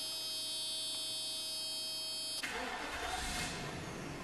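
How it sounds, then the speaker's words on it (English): A 1996 Mercedes-Benz S500 V8 cranks briefly and fires up, then settles into a smooth, steady idle after a quiet stretch with only a faint electrical hum. "car fires up smooth every single time"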